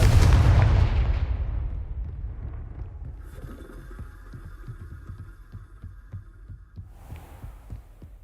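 A loud, deep blast from a Confringo fire spell in Hogwarts Legacy opens, decaying over a couple of seconds, followed by a low throbbing pulse, a steady hum and faint thuds.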